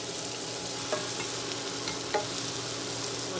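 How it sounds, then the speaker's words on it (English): Mushrooms sauté in melted butter in a pan, producing a constant close sizzling hiss with a couple of faint utensil taps and no voices. "We're going to add the mushrooms to the pan, and we're going to saute these until they're just softened."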